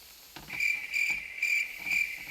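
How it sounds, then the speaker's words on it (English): A cricket sound effect chirps in regular short bursts, a clear, fairly close insect trill repeating about every half second with faint background noise between. "Why would you give me crickets?"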